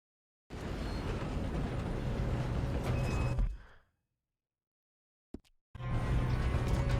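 A train in the video game Red Dead Redemption 2 gives off a steady, dense rumble that cuts off abruptly, falls silent, then starts up again after a brief thump.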